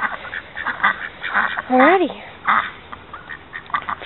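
A duck used in retriever dog training gives a couple of loud quacks in the middle, amid talking and other outdoor sounds.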